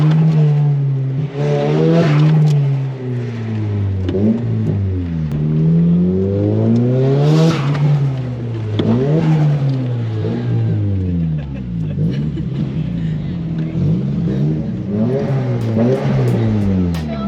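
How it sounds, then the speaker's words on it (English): Several JDM cars at a Nissan S15 meet rev repeatedly nearby, engine notes sweeping up and down in loud rising and falling waves over a continuous rumble of idling motors. "All the cars are all started up now."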